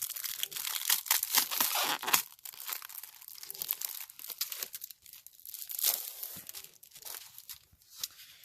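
Packages of thin white printed paper, stamped with postage designs, crinkle and rustle steadily as they are handled up close, with crisp crackling bursts and softer shuffling, no talking.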